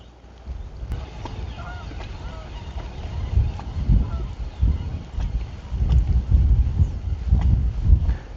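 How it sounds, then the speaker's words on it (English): Geese honk intermittently by a lake, fairly distant and irregular, over a steady wash of wind and outdoor ambience. "Goes those geese."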